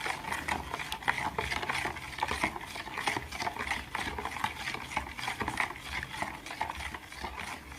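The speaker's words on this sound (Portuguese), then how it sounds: "depois a gente vai mexendo, ela vai dissolver a margarina" A utensil stirs margarine into warm milk in a bowl, making a steady run of soft, rhythmic scraping and swishing strokes up close.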